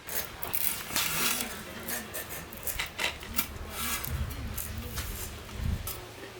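Fibres are stripped by hand from palmyra sprouts, producing repeated close rubbing and rasping scrapes in an irregular rhythm.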